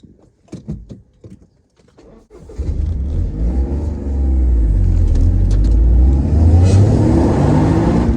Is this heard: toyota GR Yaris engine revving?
yes